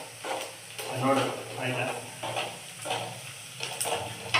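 Oil sizzles softly in a pan as capsicum rice is cooked, with stirring scrapes and a few clinks coming in bursts while a person speaks briefly over the frying.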